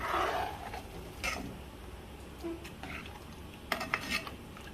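A spoon scrapes and clinks against a pan while egg gravy curry with fried eggs and curry leaves is stirred, giving quiet, irregular metallic taps with a sharper cluster near the end, close by and with no talk.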